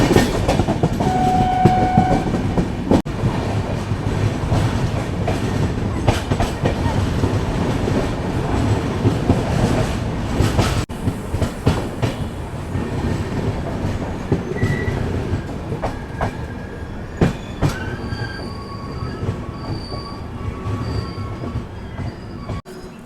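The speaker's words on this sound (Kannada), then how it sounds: "ಚೆನ್ನಮ್ಮ ಎಕ್ಸ್ಪ್ರೆಸ್ ಈಗ ಎಂಟ್ರ್ ಆಗೈತೆ ರೀ" Rani Chennamma Express pulling into Ghataprabha station: a loud, steady rumble of rolling coaches with wheel clatter, sharp metallic squeals and tonal horn-like notes, no voices.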